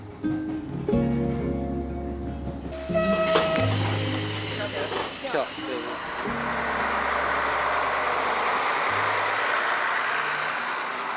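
Inside a JR train carriage travelling through quiet countryside near Japan's southernmost station, a steady engine drone and humming tones rise and shift in pitch over a constant rolling rumble, close and moderately loud.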